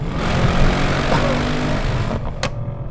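A 2018 Mercedes-Benz S63 AMG's loud, throaty engine roars and revs continuously, ending with a sharp pop as the revs drop.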